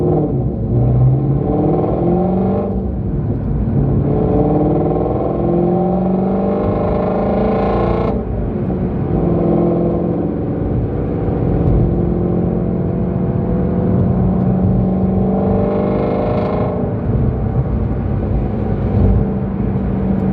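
A Ford Mustang GT350R accelerates hard, its engine rising through revs in loud sweeping pulls broken by shifts, rear tyres losing traction, close and alone without voices.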